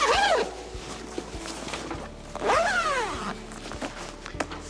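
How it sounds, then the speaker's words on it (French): A zipper closing a parasol's protective cover gives two quick rasping pulls a couple of seconds apart, close and clear, with soft handling clicks between them. "vous pouvez fermer la housse protection avec la fermeture éclair"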